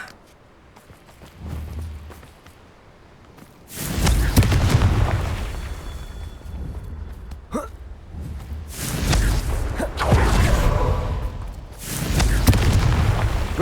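Confringo blasting spells explode in Hogwarts Legacy, several loud booming bursts landing in separate clusters with quieter gaps between them.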